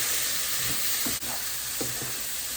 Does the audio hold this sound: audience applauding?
no